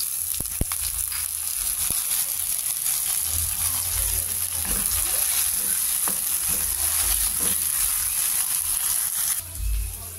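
Tomatoes sautéing with onion, garlic and ginger in a pan make a steady, close sizzle and frying hiss, broken by occasional stirring clinks and scrapes, with no talking.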